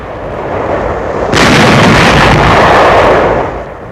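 Archival WWII footage of artillery firing on enemy barges on the Rhine before Dusseldorf in 1945: a loud, broad roaring blast that swells suddenly and holds for a couple of seconds over rumbling noise before fading.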